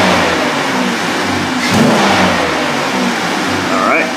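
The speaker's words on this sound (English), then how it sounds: "Give her a couple rev up tune-ups." A Buick LeSabre engine, under diagnosis for its MAF sensor, revs steadily and close by, holding a continuous mid-pitched drone that swells slightly around the middle, with brief faint speech.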